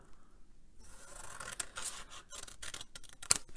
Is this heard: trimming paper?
yes